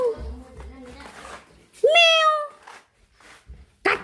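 A cat meows several times, one long loud meow in the middle and shorter cries around it, close by, with a person talking in between.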